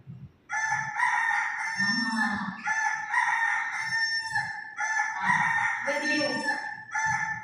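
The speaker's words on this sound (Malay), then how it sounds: "Bunyi ayam." A rooster crows loudly and repeatedly, its long cock-a-doodle-doo calls mixed with low clucking from other chickens nearby.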